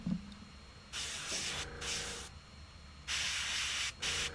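An airbrush held with its cup, needle and front end underwater sprays in bursts, giving loud steady hisses of about a second each with short gaps between them, and no talking.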